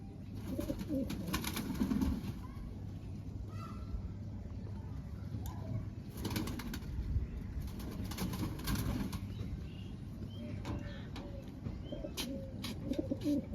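Soft, low pigeon coos repeat through a steady outdoor background, with occasional wing flutters and distant chirps.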